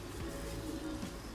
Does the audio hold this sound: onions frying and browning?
no